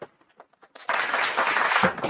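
Audience clapping at a team motivational event as a speaker is welcomed to the stage, a few scattered claps first, then a sudden burst of dense, sustained applause from a crowd.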